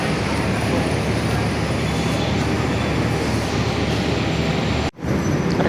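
A loud, steady rumble of the Ambarawa Express train idling at a station platform in Surabaya, with a dense mechanical drone that continues with a brief dropout near the end.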